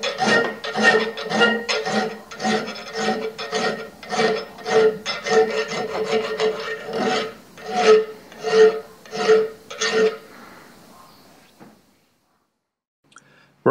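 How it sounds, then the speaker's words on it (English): A hand file works the shoulder of a steel commando dagger blade clamped in a file guide, giving a close run of rhythmic rasping strokes that stop abruptly before a short silence. "Using a file guide to keep both sides of the blade aligned, file around its shoulder where the guard will sit."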